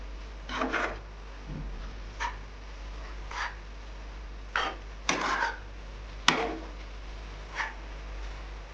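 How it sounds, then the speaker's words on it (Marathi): A spoon stirs carrot halwa cooking in milk in a pan, giving soft intermittent scraping and rubbing strokes at an uneven pace over a low steady hum, close and fairly quiet. "दूध आटेपर्यंत आपल्याला हे हलवत राहायचं आहे"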